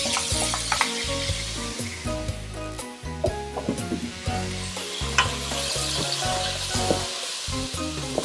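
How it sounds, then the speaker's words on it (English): Potatoes browning with bacon in a pan for clam chowder: a steady close sizzle broken by repeated rhythmic stirring and scraping strokes, with no voices. "so now let's go ahead and brown our potatoes"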